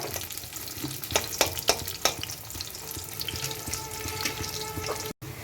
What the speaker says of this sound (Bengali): কুচানো পেঁয়াজ ব্যাস এটাকে লাল করে আমার ভাজতে হবে